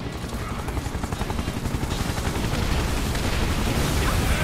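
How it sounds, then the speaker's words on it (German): Helicopter in the video game Final Fantasy 7 Remake, a steady rotor roar with rapid rhythmic chopping pulses that stays loud and grows slightly heavier over time, mixed with dense game action noise. "Der Hubschrauber!"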